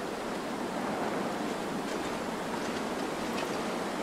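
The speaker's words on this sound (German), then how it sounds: "Es ist zu windig, ein Feuer zu machen." Steady wind roars in a snowy survival video game, The Long Dark, a constant broadband rush with no gusting breaks or voices.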